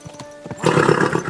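Horse snorting and neighing as a rider sets off in the medieval game Kingdom Come: Deliverance II, a loud burst of whinny with hoof and tack noise after a few soft thuds.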